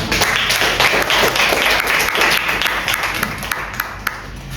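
Steady applause from a classroom audience, many hands clapping continuously and fairly loud, slowly tapering off toward the end.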